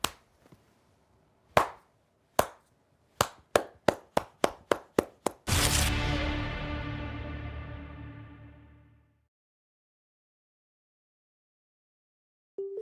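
Slow clap: single loud hand claps at first widely spaced, then quickening, ending in a swelling burst that rings out and fades over several seconds, with silence after.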